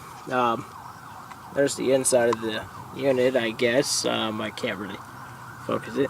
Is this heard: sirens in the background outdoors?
yes